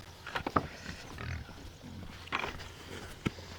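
Farm pigs being readied for farrowing give a few short, faint grunts and squeals at scattered moments over low background rustle.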